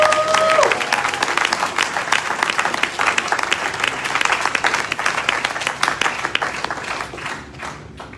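A church congregation bursts into sustained applause and acclaim during a pastor's sermon, dense clapping from many people filling the room, loud and continuous before fading toward the end.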